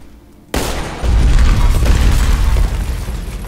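Shooting and explosions in the video game Deadfall Adventures: a sudden loud blast, then a deep, sustained rumbling boom that keeps roaring at high level with crackling debris-like noise.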